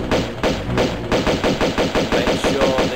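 Rapid gunfire in Tomb Raider II remastered, a steady stream of evenly spaced loud shots, about four per second, close and sustained with no talk.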